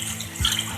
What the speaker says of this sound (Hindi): अब हम इसके अंदर पानी ऐड कर देंगे।